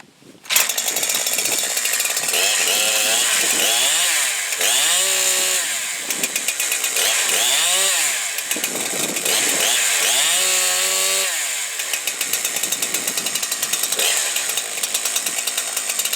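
A Husqvarna chainsaw with a carburetor is pull-started, then runs loud and close with repeated revving bursts rising and falling, and settles into a rough idle near the end.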